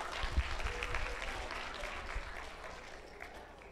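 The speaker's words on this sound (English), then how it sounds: "You could clap, go ahead, buddy" Quiet crowd clapping from a school assembly audience, a brief scattered burst at first that thins and fades away.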